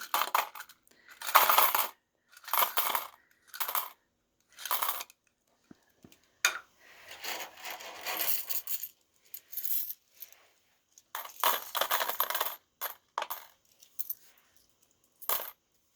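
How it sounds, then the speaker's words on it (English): Coins clatter and jingle in repeated bursts as handfuls are poured and dropped into a container hanging from a model suspension bridge, with short pauses between pours. "start putting coins in that and see how many it takes before it collapses"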